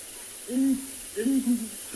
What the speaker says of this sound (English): It's only two of the birds calling.